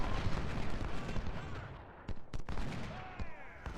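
Dense, continuous crackle of massed rifle fire directed at artillery in the Civil War strategy game Ultimate General, rattling steadily with a few sharper pops standing out, no talking.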